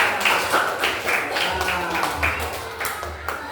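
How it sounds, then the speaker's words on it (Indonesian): A classroom of students claps hands together at the teacher's prompt, a series of fairly loud, roughly rhythmic claps with some chatter and low rumble mixed in. "Hebat, kita tepuk tangan buat kita semua."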